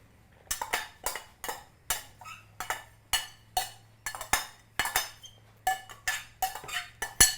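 Diced courgettes cut in brunoise are emptied from a bowl into semolina. The result is a rapid, rhythmic series of clinks and scraping knocks against the dish, about a dozen bursts, close and clear with no talk.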